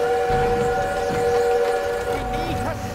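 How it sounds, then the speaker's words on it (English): A train in the Call of Duty WW2 video game, its steady whistle-like tones sounding loud and continuous over rumbling game noise, with voices calling out briefly. "We need to stop that train!"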